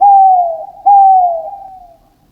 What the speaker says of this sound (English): An owl makes this sound.